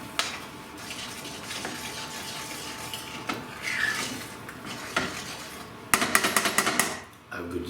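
Spices are being mixed into a chicken tikka curry in a pan, a close run of utensil scrapes and metallic knocks against the cookware, with louder rapid clatters toward the end.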